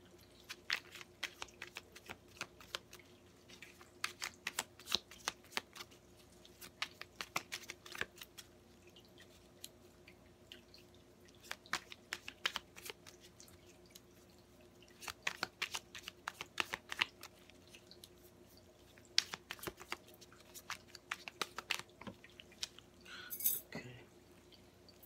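Tarot cards are shuffled by hand in repeated quick riffling bursts separated by short pauses, close and crisp, with faint background hum and no talking.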